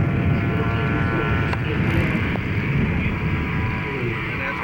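A scale model P-47 from Aerotech Models flies at a scale aircraft show, its engine giving a continuous, fairly loud drone with broad outdoor wind-like noise throughout.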